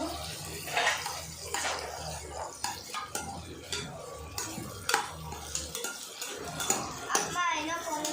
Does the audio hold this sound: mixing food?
yes